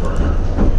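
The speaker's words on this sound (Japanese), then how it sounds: "端っこの方から出発したので犬山線の本線に入るまでポイントをゆっくり通過したところです" From inside a Meitetsu local train leaving Inuyama Station, the car rolls slowly over track switches onto the Inuyama Line main line, with a loud, steady low rumble of wheels and carriage.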